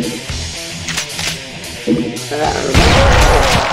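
A kick smashes a demon's head in Brutal Doom, a loud, crunching impact burst with gory splatter amid the game's chaotic combat noise, lasting only a few seconds.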